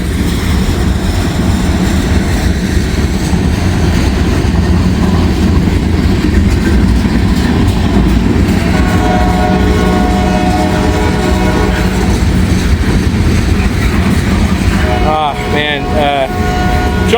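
Train M510 rumbling loudly past in the rain near Hamilton, a continuous heavy roar of railcars with a horn blast sounding near the end; a voice speaks over it.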